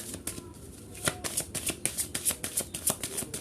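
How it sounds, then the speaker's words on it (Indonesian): Tarot cards are shuffled with quick crisp riffles and flicks in a steady rapid rhythm, close and fairly quiet, with no talking. "Kita akan ambil 3 kartu energi kamu di sini ya."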